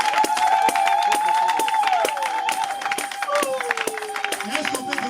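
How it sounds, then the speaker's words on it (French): A church congregation applauds and cheers, dense rapid clapping mixed with a sustained whistle-like cry and crowd voices, loud and close throughout. "Est-ce qu'on peut donner des acclamations au Seigneur?"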